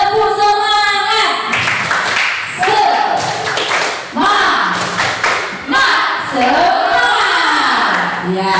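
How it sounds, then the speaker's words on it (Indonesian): A group of participants at a teacher training session performs a rhythmic spirit clap, sharp claps and thumps in patterned bursts mixed with chanted voices, loud and close. "Tepuk semangat."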